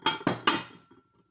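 Three sharp clinks of ceramic serving dishes being picked up and set down, evenly spaced and close, with a faint rattle trailing off after the last knock.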